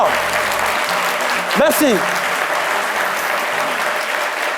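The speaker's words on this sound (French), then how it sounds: "avec quelques secondes d'applaudissements, je voudrais qu'on le voit son très très fort" Studio audience applauding in tribute to departed artists, steady loud clapping throughout, with someone briefly speaking over it partway through.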